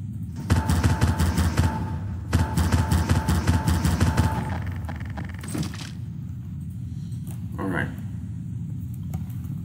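Rapid bursts of automatic gunfire in a video game crackle in quick succession, then give way to quieter mechanical clatter and muffled background sounds.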